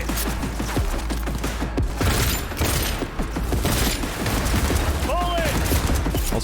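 Rapid bursts of gunfire from a money-shooting gun in the Cyberpunk video game, dense crackling shots and thuds running throughout alongside a talking voice.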